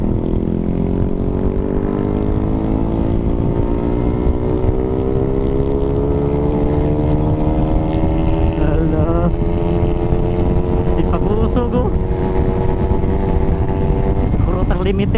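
A GTR150 motorcycle engine revs hard and holds high at the limiter, a loud, steady buzzing drone with rising pitch, up close with wind noise.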